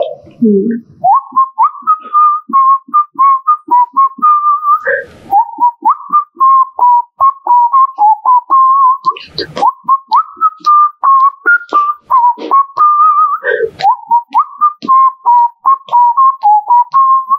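A man whistles the Fanaa film song melody with his mouth, loud and close, a clear continuous tune of sustained notes broken by short breaths, with no accompaniment.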